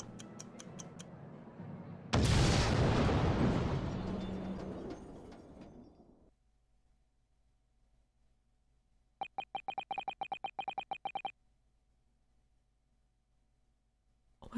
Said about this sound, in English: the enormous explosion that ripped through the experimental stage at the Great Exhibition